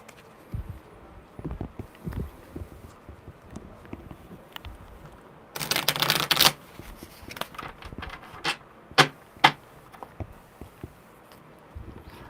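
Tarot cards being shuffled by hand during a one-card reading: soft scattered taps and slides, with a dense riffling burst midway and a few sharp snaps near the end, close and fairly quiet.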